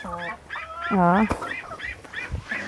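An agitated hen in an organic brown-egg flock gives a close, loud run of harsh, honking clucks with rising and falling tones during the egg harvest.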